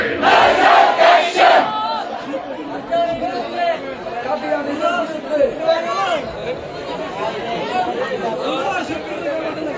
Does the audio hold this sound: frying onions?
no